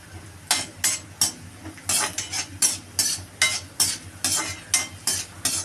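Cashews and raisins fry in ghee while a spoon stirs them in the pan, with a soft sizzle under repeated metallic scraping and clinking strokes arriving every half second or so.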